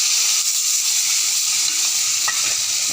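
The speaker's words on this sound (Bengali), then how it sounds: "পেঁয়াজটাকে ভালো করে ভেজে নেব" Chopped onions frying in hot oil with bay leaf and cumin, a dense, loud, continuous sizzle close by, with faint stirring scrapes underneath.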